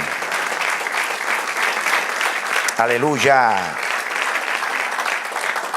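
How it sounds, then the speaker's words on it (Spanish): A church audience at a sermon applauds in a steady, full wash of clapping while a voice calls out briefly in the middle. "Denle un aplauso, Señor."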